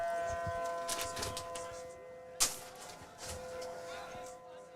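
A distant tornado siren wails in steady tones during a state high school final, beneath faint background noise and a voice, with one sharp knock partway through.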